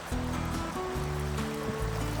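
Knee-deep water of the Surya River near Thane at Gargaon rushes over a stony bed in a steady, loud, unbroken wash.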